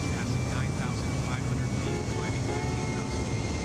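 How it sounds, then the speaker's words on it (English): A big, loud airplane drones steadily overhead, a continuous engine roar that stays heavy the whole time. "only problem with that big plane there is that we're hearing it all."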